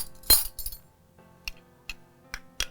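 A spoon clinks sharply against a bowl while curd is mixed for a mutton marinade, one bright clatter followed by four or five spaced taps, close and crisp.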